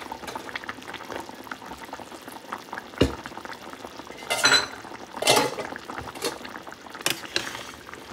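Vegetable curry with potatoes and added fritters bubbles in a pot, a close, steady boil with occasional clinks of utensils and a few louder stirring bursts.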